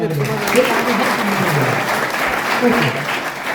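Loud, steady applause fills a hall during a Brahma Kumaris motivational talk, dense clapping continuing throughout with a couple of swells and voices faintly mixed in.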